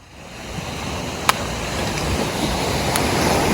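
Ocean waves creep toward a tent on the shore at high tide, a steady broad roar of surf that swells slightly over time, mixed with wind buffeting the microphone and a couple of faint clicks.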